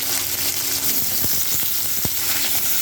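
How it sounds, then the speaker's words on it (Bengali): Potatoes fry in oil with panch phoron spices, producing a loud, dense, continuous sizzle close up, with a few soft stirring knocks underneath and no talking. "আলুগুলোকে ভালো করে ভেজে নেব।"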